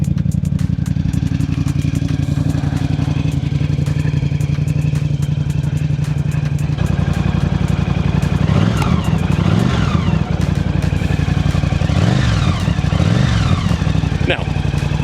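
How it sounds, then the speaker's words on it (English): A 1982 Honda CX500 Turbo motorcycle engine idles close and loud, a steady lumpy throb with mechanical clatter that swells in short waves partway through. "So at idle, it's just your normal CX500"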